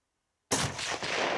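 A single sharp rifle shot cracks out close and loud after a moment of silence while a hunting rifle is sighted in for bear season, leaving a brief ringing echo.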